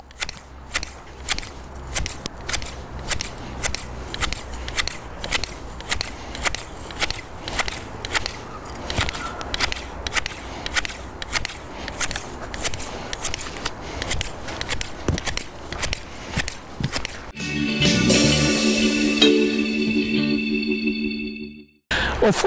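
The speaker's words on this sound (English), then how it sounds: "make sure you choosing the professional hedge cutter and cut it very clean" A professional hand hedge cutter clips a lemony conifer in quick, sharp, rhythmic snips, close and crisp, with a brief burst of rustling foliage near the end.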